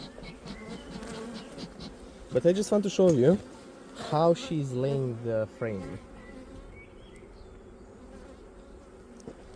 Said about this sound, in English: she's aggressive, like bees are not normal.